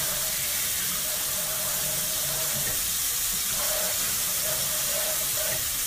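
Tap water runs steadily into a sink while hands are washed in a home kitchen during cooking, a continuous even hiss with faint shifts in the splashing and no talking.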